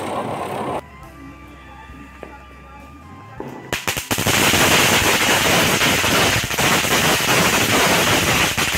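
Firecrackers set off at home for Kali Puja: after a quieter stretch, a few sharp pops give way to a dense, loud crackling barrage that continues to the end.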